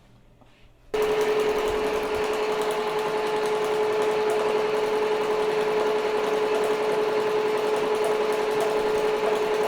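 An embroidery machine stitching a placement stitch on a shirt starts up after a quiet moment, then runs with a loud, steady rapid mechanical whir and needle chatter throughout.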